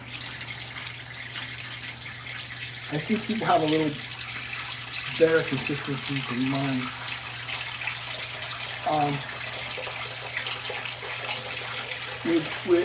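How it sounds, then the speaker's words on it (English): Water runs steadily from a tap into a bathroom sink as it fills for a shave, a constant hissing gush close by while someone talks over it. "let me fill up my sink with water"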